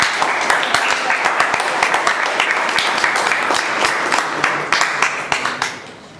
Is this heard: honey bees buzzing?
no